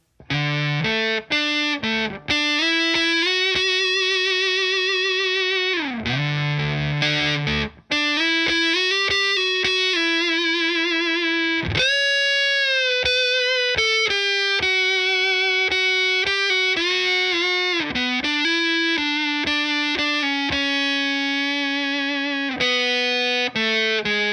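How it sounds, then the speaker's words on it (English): Electric guitar through a vintage distortion pedal plays a loud, continuous run of sustained fuzzy notes and chords, with short gaps between phrases and no talking. "switch over to the vintage distortion"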